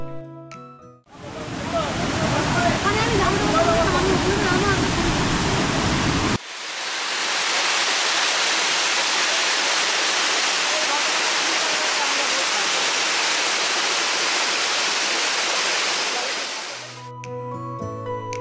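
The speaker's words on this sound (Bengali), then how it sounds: "জলের শব্দ, ঝর্ণার পাশে বসে পাথরের উপর বসে থাকা আর পাখিদের ডাক" The Dhangi Kusum waterfall near Belpahari sends out a loud, continuous roar of rushing water. It swells after a brief break and stays full and steady for most of the stretch before fading at the end.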